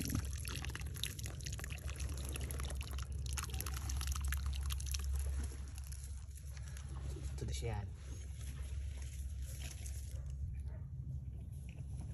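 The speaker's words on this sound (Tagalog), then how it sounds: "Buhusan mong kunti-kunti." Water is poured slowly, a little at a time, into a container outdoors, a soft continuous splashing trickle under steady background noise while people talk nearby.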